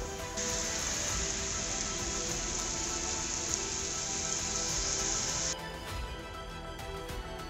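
Heavy rain pours in a windstorm over a highway at Nelamangala near Bengaluru, a dense, steady hiss that holds loud and constant, then drops slightly lower near the end.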